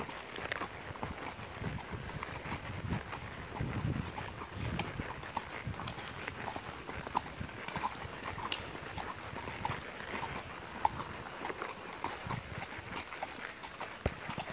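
Rhythmic clip-clop of a ridden horse's hooves on a hard path, steady walking pace, amid outdoor noise and faint rustling.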